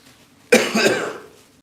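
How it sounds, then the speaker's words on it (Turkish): A single dry cough bursts out close and loud, with a sharp onset that trails off over about half a second. "Biraz da öksürük var. Kuru öksürük."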